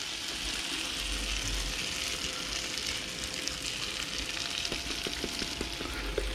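Shredded potatoes fry for hash browns in shimmering oil, a continuous crackling sizzle with light spatula scrapes as they are pressed down, steady and close.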